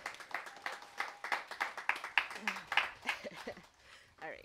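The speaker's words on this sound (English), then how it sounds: "Can we give Sophie a round of applause?" Scattered clapping for Sophie at an outdoor worship service, a modest number of distinct hand claps in loose rhythm, with a voice briefly talking over it near the end.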